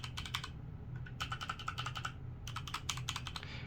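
Spacebars on mechanical keyboards with brown and red switches are pressed in quick bursts, a run of sharp clacks, a short pause, then two more clusters of close, crisp taps.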